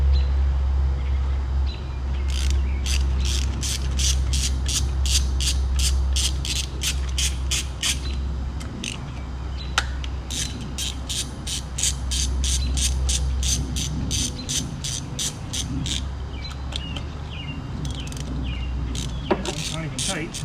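A 10 mm ratchet breaking spark plugs loose on a 2004 Chevrolet Trailblazer 4.2 clicks in rapid bursts over a steady low hum, close by, with short pauses between runs of clicks.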